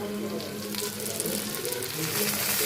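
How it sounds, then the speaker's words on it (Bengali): Masala sautéed in a pan gives off a continuous soft sizzle with faint stirring scrapes, fairly quiet and steady throughout. "এটা দিয়ে এবার ভালো মতন কষাতে থাকবো মশলাটাকে।"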